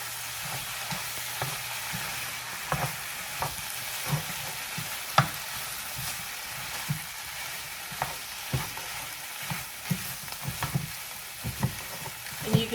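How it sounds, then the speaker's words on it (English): Carne guisada with green chilies stirred in a pot, a soft continuous simmering sizzle broken by repeated scrapes and clinks of a spoon against the pot, close and steady, with no talk. "I'm going to stir it up."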